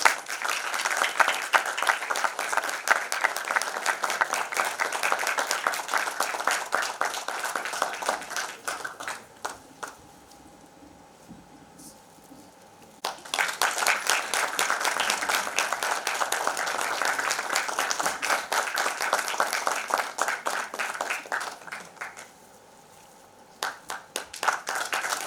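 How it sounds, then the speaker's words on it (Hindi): Audience at a film trailer launch event applauding, dense sustained clapping from a crowd that fades briefly twice and then swells again. "जरा तालियां जोर से बजाइए।"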